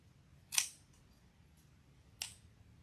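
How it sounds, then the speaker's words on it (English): Scissors make two crisp, distinct snips a moment apart while trimming ribbon tails on a wreath, with faint quiet room noise between the cuts. "all I'm doing is trimming all of my tails at slightly different lengths"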